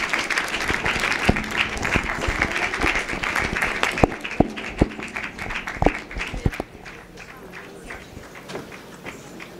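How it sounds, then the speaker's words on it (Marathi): Audience applause honours girls at Ramananda Maharaj's birth centenary festival: dense crowd clapping with sharp individual claps standing out, steady for several seconds, then thinning and softening toward the end. "सगळ्यांनी टाळ्या जोरात वाजवून त्यांचं कौतुक करायचं आहे."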